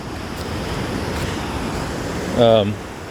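Small ocean waves wash over reef and rock on sandless K-38 beach near Rosarito, making a steady, broad surf rush with wind buffeting the microphone. A brief tonal call cuts in near the end.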